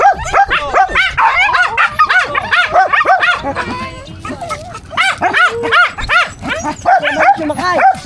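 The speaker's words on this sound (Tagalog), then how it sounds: "Doon na nga yung mga aso sa dito." Dogs bark and yip repeatedly in quick, loud bursts close by, with some whimpering between, during a trip to Baler, while people talk faintly in the background.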